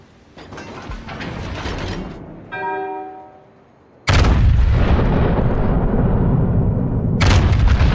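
Battleship main guns firing at an enemy warship in the naval combat game World of Warships: two loud, booming salvos with long rumbling decay, separated by a brief mechanical ratcheting of turret machinery, ending with another sharp blast.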